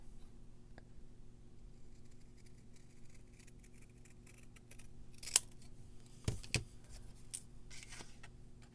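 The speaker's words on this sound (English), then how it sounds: "I wonder what would happen if I just cut some of it off." Scissors snip through a paper recipe card for junk-journal ephemera, giving a few sharp close cuts over a quiet room hum, with no talking.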